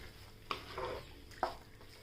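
Leftover masala stirred into stuffed cucumber bhaji in a pan, two distinct scraping clinks of the spoon about a second apart over a faint background, quiet and close.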